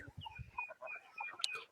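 Several free-range country chickens on a farm cluck and chatter close by on a cold morning in short, overlapping calls, with one sharper squawk near the end.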